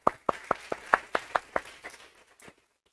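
A church congregation claps along in a steady rhythm, about ten sharp hand claps at an even pace that fade out near the end, fairly quiet and with no other sound.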